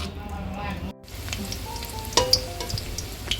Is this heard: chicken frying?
yes